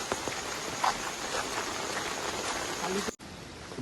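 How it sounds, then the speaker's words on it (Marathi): Heavy rain pours in a dense, steady hiss close by on a trail near Ukshi Ranpat waterfall in Konkan, briefly cutting out near the end before resuming. "पाऊस भरपूर लागतोय"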